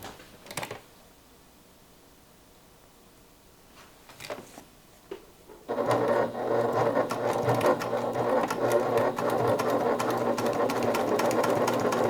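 A few scattered clicks and handling noises lead into a sewing machine stitching fabric held with double-sided tape, a loud, close, rapid mechanical chatter that runs steadily to the end.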